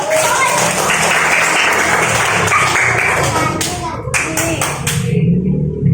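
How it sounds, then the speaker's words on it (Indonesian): A classroom of students clapping during a lesson, a loud, dense sustained round of applause with a few final distinct claps as it trails off, voices faintly mixed in. "Beri tepuk tangan untuk musik dulu."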